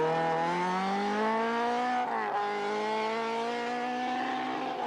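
An MG Maestro Challenge Group N rally car runs a Cork tarmac stage, its engine droning loud and steady at high revs, with a brief lift and gear change midway before pulling hard again.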